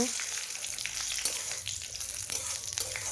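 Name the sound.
cloves, dried chilli, cumin and bay leaf frying in hot oil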